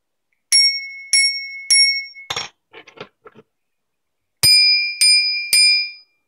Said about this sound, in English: Slightly different tone than the smaller bell.